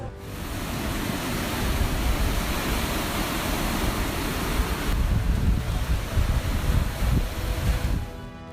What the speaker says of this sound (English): Plymouth hit by fierce waves as Storm Ciarán hits